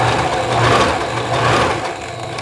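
Sewing machine stitching the lining of a tailored godet skirt, a continuous close mechanical hum and rattle running steadily for a couple of seconds with no one talking.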